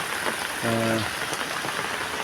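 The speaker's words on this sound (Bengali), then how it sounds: "মুষলধারে বৃষ্টি হচ্ছে" A heavy downpour roars steadily outside a mosque after midday prayers, dense and loud throughout, with a brief low tonal hum rising under the rain for a moment.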